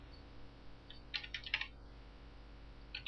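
A new folder name is typed on a computer keyboard: a short, quiet burst of several quick keystrokes, then one more tap a moment later, in an otherwise silent room.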